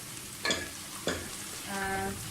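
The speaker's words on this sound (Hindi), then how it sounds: "प्याज हमारी फ्राई हो गई है।" Onions fry in a pan for a seekh kabab masala, with a constant soft sizzle and two sharp stirring scrapes, then a steadier frying hiss toward the end, no talking.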